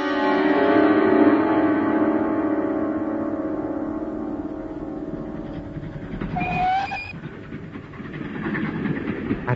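A train rumbles past with a steady mechanical roar, then a brief rising whistle or horn sounds before the noise settles down, in a radio drama set around a London train to Leatherhead.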